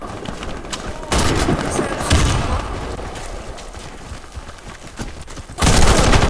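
Bursts of gunfire and a grenade blast in the online shooter Warface, loud rapid shots in clusters with heavier booming hits near the start, middle and end, under occasional talk.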